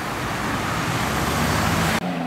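A black BMW M2 passing on a city street in Curitiba, Brazil, a loud, close broadband roar of engine and tyres that cuts off abruptly near the end.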